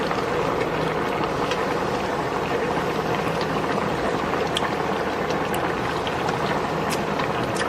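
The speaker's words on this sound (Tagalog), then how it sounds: "Titikman na po natin." A pot of chicken tomato stew bubbles at a steady boil, a continuous dense wash of bubbling and gurgling liquid with occasional small pops, close and moderately loud, with no talking.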